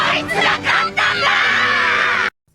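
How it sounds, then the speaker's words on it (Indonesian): Anime crew of pirates erupting in cheers over a victory, a loud burst of overlapping shouts and whoops that swells and holds steady before cutting off abruptly. "Para kru topi jerami yang melihat itu langsung bersorak atas kemenangan Luffy."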